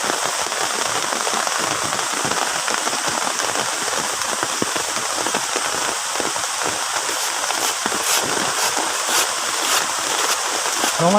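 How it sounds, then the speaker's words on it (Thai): Heavy rain pours steadily over a garden campsite on Koh Samui, a dense, continuous hiss of drops on surfaces and foliage that holds at a constant loud level throughout, with no voices. "โอ้ ฝนตกเต็มที่เลย"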